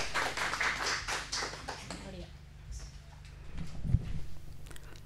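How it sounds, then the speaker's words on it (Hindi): Applause greets Dr. Meenakshi Dubey at an Akashvani radio poetry event, a burst of clapping that is loudest at first, then thins and fades within a few seconds as the room settles. "तो आइए जोरदार तालियों से स्वागत करते हैं डॉक्टर मीनाक्षी दुबे का"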